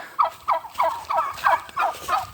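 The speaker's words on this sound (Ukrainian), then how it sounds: "Так, індики підросли." Young turkeys on a farm gobble in a quick series of about seven rapid, warbling calls, close by and fairly clear over a quiet background.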